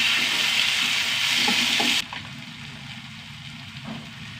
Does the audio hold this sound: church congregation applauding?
no